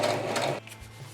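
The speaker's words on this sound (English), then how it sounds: "do the last few passes on the sewing machine" A sewing machine runs steadily through fabric parts of a Mandalorian suit, a loud mechanical whir for about half a second that cuts off abruptly, leaving a quiet hum.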